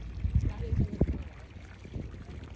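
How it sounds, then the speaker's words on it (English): Wind buffets the microphone during a sailing regatta race, low rumbling gusts under faint voices and light water movement from the boat. "There's a little bit of a wind."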